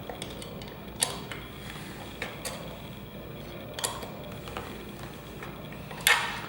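A screw tool turning a seat bolt out makes soft intermittent ticks, clicks and faint creaks at irregular intervals, close and quiet, ending with a slightly louder metallic scrape.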